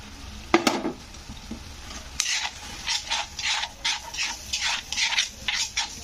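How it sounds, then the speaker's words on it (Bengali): A spice paste is stirred in a frying pan, making a series of rhythmic scraping strokes with a soft sizzle, close and moderately quiet, with no talking. "তো এবারে দিয়ে এটাকে কিন্তু নাড়তে হবে 2 থেকে 3 মিনিট এরকমভাবে নাড়তে হবে।"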